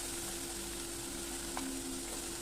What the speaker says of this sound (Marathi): आपल्याला गुलाबी होईपर्यंत परतून घ्यायचं आहे